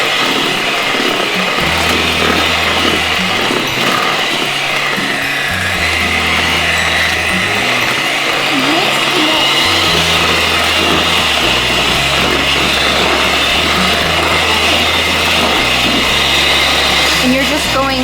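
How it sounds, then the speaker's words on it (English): An electric hand mixer whirs steadily as it whips cinnamon roll frosting until fluffy, with a constant buzzing drone and rhythmic lower thumps over eighteen seconds. "And you're just going to mix this until fluffy."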